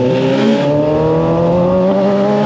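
Honda CBR 650R 2023 motorcycle engine, close and loud, with steady harmonic revving tones shifting in pitch as the rider blips and downshifts, no talk over it.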